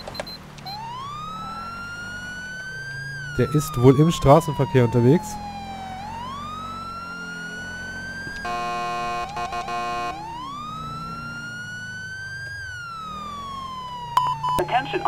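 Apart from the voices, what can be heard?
police car siren in video game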